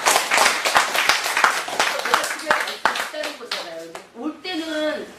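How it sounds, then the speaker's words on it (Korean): A lecture audience claps in a dense burst of overlapping hand claps, loud and close, tapering off after about three seconds as a speaker's voice takes over. "박수 좀 쳐주세요."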